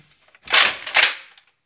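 A toy Nerf blaster fires a dart twice during a backyard Nerf battle, two close, sharp snapping pops about half a second apart, each with a short airy burst and quick decay.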